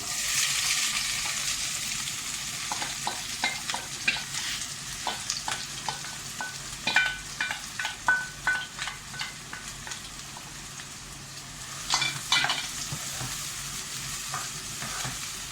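Chopped onions fry loudly in oil with cardamom pods for mutton koftas, a dense steady sizzle with a quick run of scraping, tapping spoon strokes through the middle.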